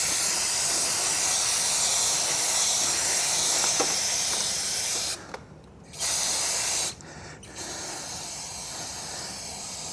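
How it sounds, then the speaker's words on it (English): An aerosol can of chain cleaner sprays steadily onto the chain of a 2025 Honda Rebel 500 motorcycle, a loud continuous close hiss broken by two brief pauses. "So we want to start out with the chain cleaner first"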